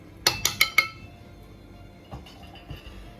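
Four quick metallic clanks as a lid is fitted onto a pressure cooker, followed by a couple of soft knocks in a quiet room.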